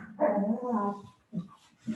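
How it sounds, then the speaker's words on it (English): Two dogs play fighting on a sofa a few feet away produce a drawn-out whining growl followed by short yips and grumbles, moderately close and fairly quiet. "I've got two dogs fighting in the background"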